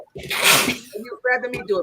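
A single loud, sharp sneeze bursts out close to the microphone with a breathy hiss, followed after a pause by a person talking.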